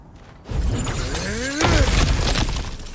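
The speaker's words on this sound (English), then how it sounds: "back to smashing through things for fun and profit" Objects smashed apart in the action game God of War Ragnarok, a loud close crash of shattering and breaking debris, then a second heavier smash rumbling out over about two seconds.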